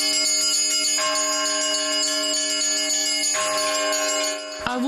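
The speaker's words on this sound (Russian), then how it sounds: "мастер-класс по пасхальному перезвону колоколов, который оповещает о торжестве добра и света" Easter church bells pealing from a bell tower in Astrakhan, rung by a bell-ringer during a master class, sustain a loud, shimmering chord, with fresh strikes renewing the ringing every second or so and no talk over it.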